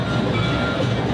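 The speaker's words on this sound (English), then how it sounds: "But our train is right on time." A Disneyland train ride rolls along with a steady, loud rumble and dense rattling of the cars, close and continuous, with no talking.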